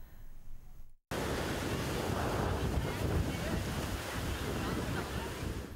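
Sea waves roll and wind buffets the microphone at Hawke's Bay beach in Karachi, a loud steady roar of surf and gusts that cuts in suddenly after a brief quieter stretch.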